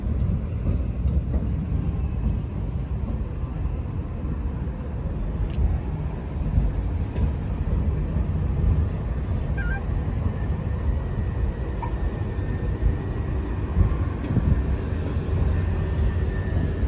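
Southeastern class 375 electric train, units 375815 and 375602 from Dover Priory, arriving at Platform 5 of London Charing Cross, a steady low rumble and hum of the approaching train filling the station throughout, with faint squeaks and clanks.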